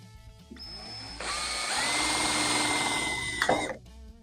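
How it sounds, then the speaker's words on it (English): A power drill whirs steadily at close range, drilling holes in a car's windshield or rear window frame, its motor whine swelling as it bites in and then winding down. "Use a nice sharp drill, because otherwise it'll walk around on you."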